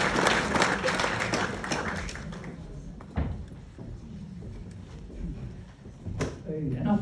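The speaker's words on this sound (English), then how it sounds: "And I think they deserve a round of applause." A crowd at a heritage day event applauds with dense clapping that tapers off after a couple of seconds, leaving scattered claps and murmuring voices.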